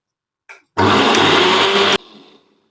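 A kitchen mixer grinder grinding spice masala for frying fish whirs loudly for about a second, preceded by a brief clatter and followed by a fading rattle as it spins down.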